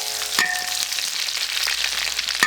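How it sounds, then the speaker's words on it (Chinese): Duck fat stir-fried with ginger, garlic and a handful of dried Sichuan peppercorns sizzles steadily in a wok, with a few scraping stir strokes and clinks breaking through the continuous frying hiss. "给它炒，先炒一下香，别急。"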